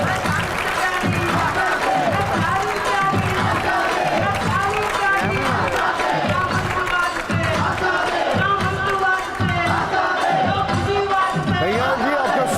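A TV9 Bharatvarsh studio audience applauds and cheers loudly for Congress leader Kanhaiya Kumar, a dense, sustained wash of clapping and shouts lasting throughout, with a host's voice over it.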